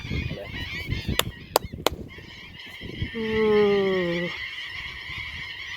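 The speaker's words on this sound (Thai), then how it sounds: "นี่นกกระแตแต้เวททั้งนั้นเลย ฝูงใหญ่มากๆเลย" A large flock of red-wattled lapwings calling in open fields, loud honking cries with a rising chorus and a few sharp clicks, overlapping calls building in the middle of the stretch.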